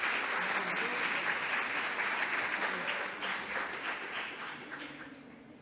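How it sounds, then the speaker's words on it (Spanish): Audience applause for a doctor at an academic lecture, a steady wash of many hands clapping that gradually tapers off, with faint voices underneath. "Un aplauso para la doctora."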